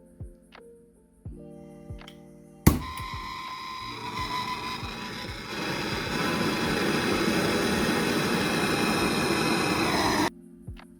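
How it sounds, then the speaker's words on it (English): A handheld gas torch of the kind used for melting gold and silver sparks with a sharp click and then roars steadily for several seconds, its hiss growing stronger as the flame is turned up before cutting off abruptly. "normally you just crack the gas, then you spark it, and then turn it up to what heat you'd like"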